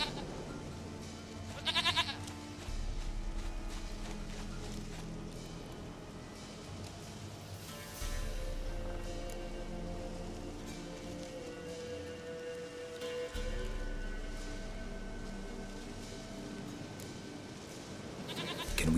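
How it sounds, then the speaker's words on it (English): In The Witcher 3: Wild Hunt, a goat gives a short bleat early on against a steady patter of rain and a low ambient game backdrop, with no other voices. "Goat of mine, dearest,"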